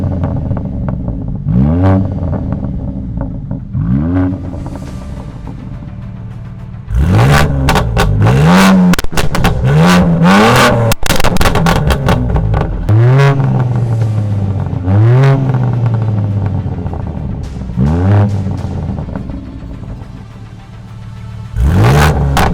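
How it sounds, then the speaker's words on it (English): Two BMW G82 M4s, one with an Akrapovic catback and one with a full Akrapovic exhaust, rev repeatedly in loud sharp bursts that rise and fall, then settle into a sustained aggressive drone with crackles, close by and with no talking. "This is running an Akrapovic catback only, and this is running an Akrapovic full exhaust"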